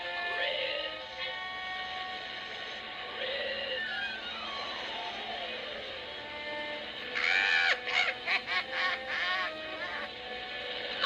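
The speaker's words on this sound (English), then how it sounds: "Even the bird sounds like a wicked witch." Harsh honking bird calls from an old film soundtrack sound over a hissy, old-recording background, with a sliding tone and a burst of rapid squawks near the end.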